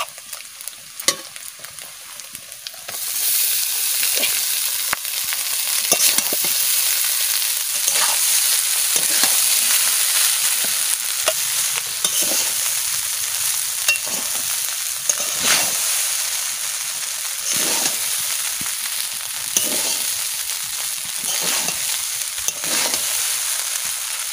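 Egg fried rice is stir-fried in a hot pan, giving a loud, steady sizzle with repeated scraping strokes of the spatula throughout.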